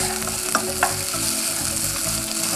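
Onion sizzles and fries in a pan for hot dogs, a dense steady crackling hiss with a couple of brief scraping stirs, close and alone with no voices.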